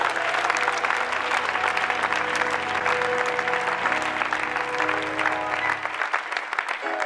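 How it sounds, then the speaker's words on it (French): A church congregation at a seminary service applauds and cheers for Jesus, a dense, sustained wash of clapping with crowd voices mixed in throughout. "Est-ce qu'on peut acclamer Jésus?"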